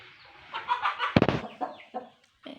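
Several chickens cluck in short, choppy bursts close by in a backyard garden, one sharper squawk standing out among the quieter clucks.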